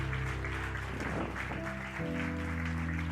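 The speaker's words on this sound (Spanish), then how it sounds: "Denle un fuerte aplauso al Señor" Sustained applause from a church congregation standing at the close of a Spanish-language service, steady dense clapping mixed with held musical tones that shift midway.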